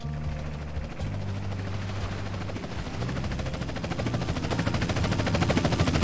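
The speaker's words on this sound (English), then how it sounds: "Chopper inbound!" A helicopter approaching in Grand Theft Auto, its rotor chop swelling from a low drone into a louder, faster beating pulse as it closes in, with no voices over it.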